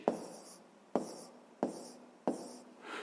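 Pen or chalk writing out a math solution, four distinct tapping strokes at roughly even intervals, each followed by a soft scratching trail, close and quiet.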